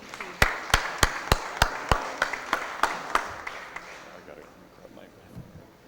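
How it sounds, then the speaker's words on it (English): Sparse single claps sound at a St. Louis Board of Aldermen city council meeting, a dozen or so evenly spaced hand claps that taper off as the room quiets. "Let's give them all one more round of applause."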